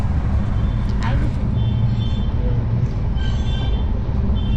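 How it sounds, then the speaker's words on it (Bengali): Darjeeling Mail train running at speed from Sealdah toward NJP, a loud, steady low rumble heard from inside the coach with continuous rattling, a brief squeal and faint voices underneath. "আর ট্রেন দুর্বার গতিতে ছুটে চলেছে এনজিপির উদ্দেশ্যে।"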